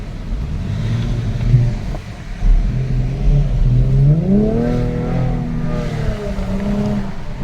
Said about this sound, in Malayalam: നമുക്ക് എന്തായാലും ഡ്രൈവ് ചെയ്ത് നോക്കാം